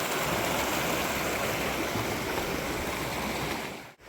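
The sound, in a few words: babbling brook stream water flowing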